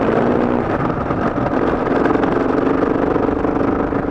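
A KTM 690 motorcycle engine lugs at low revs on an adventure ride on New Zealand's South Island, a steady, loud, close rumble that holds an even tone throughout.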